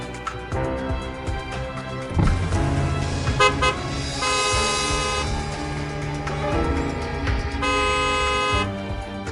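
Car horns honking in a traffic jam, loud overlapping toots and long sustained blasts from several vehicles over steady road noise, close and continuous.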